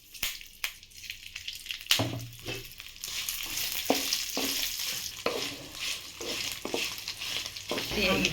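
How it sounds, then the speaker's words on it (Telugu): Cumin, fenugreek and coriander seeds fry in a little oil in a pan while being stirred, giving a steady bright sizzle broken by scraping and stirring clatter. "కొద్దిగా జీలకర్ర, కొన్ని మెంతులు, కొంచెం ఆయిల్ వేసి వేసుకుందాం."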